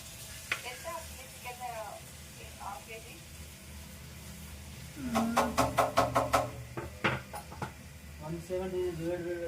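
Tomatoes sizzle in a pan of chicken curry while a person talks over the cooking, and a burst of rapid metallic stirring clatter joins the hiss midway.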